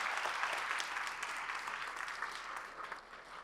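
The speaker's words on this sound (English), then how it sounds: "I want everybody to give him a resounding applause." Steady applause from an audience at a school homecoming event, many hands clapping in a continuous, fairly distant wash that holds at an even level throughout, with no voices standing out.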